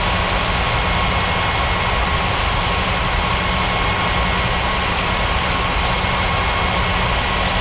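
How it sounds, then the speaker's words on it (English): Airliner in an airport video game rolls for takeoff, a steady, loud jet engine roar holding evenly throughout with no voices. "Ethiopia 6081, cleared for takeoff runway 14 right."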